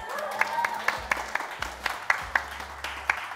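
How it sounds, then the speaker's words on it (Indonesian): Small studio audience clapping, a brief patter of hand claps close by with a few louder individual claps over a low background. "Tepuk tangan dong."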